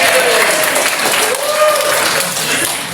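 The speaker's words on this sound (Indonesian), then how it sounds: "Tepuk tangan yang meriah." Applause from an audience at a Christian–Islam public debate, sustained broadband clapping that carries steadily throughout with a voice speaking over it.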